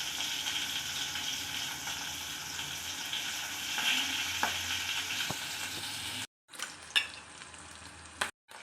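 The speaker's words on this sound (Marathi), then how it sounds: "कांदा लालसर होईपर्यंत भाजायचा आहे आपल्याला" Onion for egg curry sizzles steadily in a hot pan, a loud continuous frying hiss with a few stirring clicks, cut off abruptly near the end before brief bumps and clatter.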